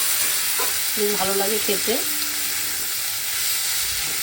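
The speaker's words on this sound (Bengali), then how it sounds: "আমি শুধু কুমড়ো দিয়ে আর উচ্ছে দিয়ে আর লঙ্কা, একটা কাঁচা লঙ্কা দিয়েছি দেখতে পাচ্ছ, ভাজা করছি।" Pumpkin and bitter gourd pieces with a green chilli and onion fry in a pan, giving a steady close sizzle and hiss beneath a brief spoken remark.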